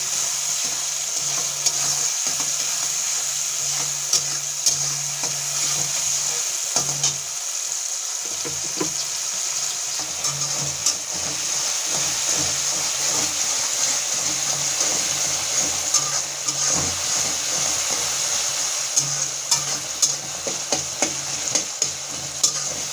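Eggplant and tomato fry in a pan with a steady loud sizzle, broken by frequent scraping and clinking of a spatula as the pieces are stirred.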